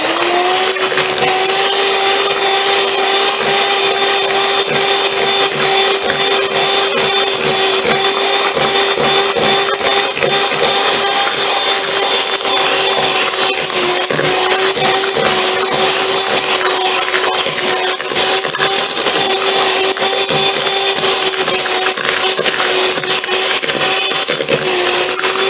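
An electric mixer beats butter with white sugar and brown muscovado sugar for cupcakes, a loud, steady whirring drone that runs continuously without pause.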